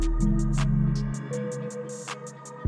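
Ambient synth loop built in FL Studio and pitched down a full octave, with low sustained bass tones, soft pulsing high swells and a faint melodic line, moderately quiet and free of talk.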